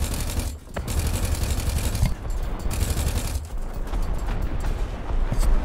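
Machine guns on a Leopard 1 tank fire in a video game, sustained rapid bursts of loud, dense gunfire that run almost continuously with brief pauses between volleys.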